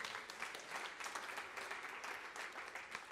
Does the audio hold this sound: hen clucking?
no